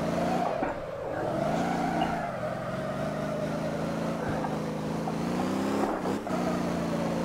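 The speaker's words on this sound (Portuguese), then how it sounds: "Queimou o pneu de segundo." A turbo V8 limousine in the Motor Town video game spins its tyres in second gear, a loud, sustained engine roar with rising and falling revs and tyre squeal, a faint voice briefly underneath.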